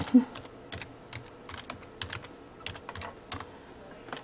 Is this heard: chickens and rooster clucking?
no